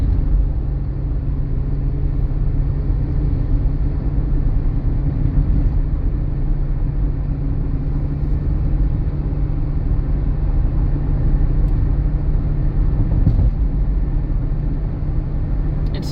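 A 2007 Kia Sportage driving uphill, heard from inside as a steady, loud engine and road drone with a low rumble that holds constant throughout.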